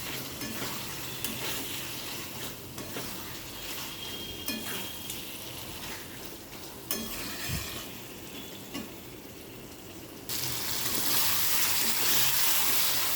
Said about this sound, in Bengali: এবার চিকেনটা দিয়ে ভালো করে কষবো।